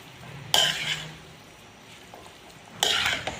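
Chana chaat being mixed with ketchup in a pan: two short, sharp spoon scrapes against the metal, about two seconds apart, with quiet in between.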